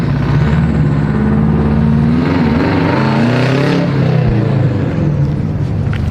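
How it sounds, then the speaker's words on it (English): A Mitsubishi Evo X engine revs loud and close with a steady rumbling drone, pitch wavering up and down as the clutch is slipped and burned, continuing without a break. "Watch him burn the clutch."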